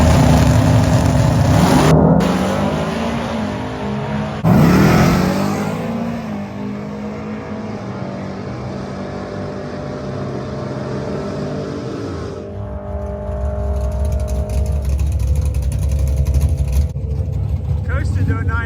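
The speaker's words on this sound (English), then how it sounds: "I did a little hotter burnout to try and bring the tire pressures up before I staged the car." A nitrous-fed Chevrolet Malibu drag car does a hot burnout at the drag strip before staging, its engine roaring loud and steady with surges of revving and tire noise, while people talk over it.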